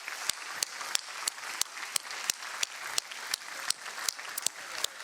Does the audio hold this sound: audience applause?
yes